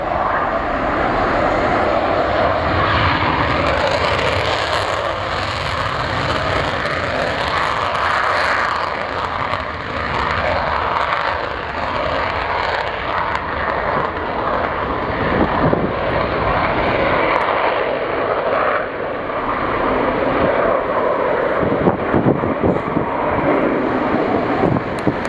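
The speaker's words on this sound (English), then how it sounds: "here we've got some F-16s taxiing." F-16 fighter jets taxi at an airbase during a military exercise, their jet engines producing a loud, sustained roaring whine with wind buffeting the microphone throughout.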